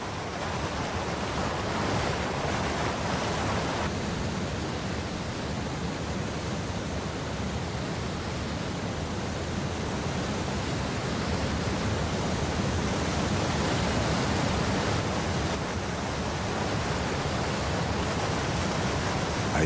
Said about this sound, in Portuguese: transformando-se em cachoeiras e córregos torrenciais